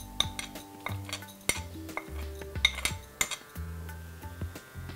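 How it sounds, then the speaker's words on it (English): Urad dal is dry roasted in a small kadai, with a utensil clinking and scraping against the metal in irregular, bright taps and rattles, close and quiet. "I have this small kadai here and I'll be dry roasting my ingredients"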